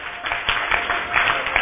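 A congregation at a church service applauds the Lord, with many hands clapping in a dense, fairly loud burst and a few sharper claps standing out near the start and end.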